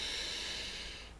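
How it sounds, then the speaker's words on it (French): A steady inhale through the nose during a relaxation breathing exercise, a soft, continuous airy hiss lasting about a second, close and quiet with no talking. "Prenez une inspiration par le nez."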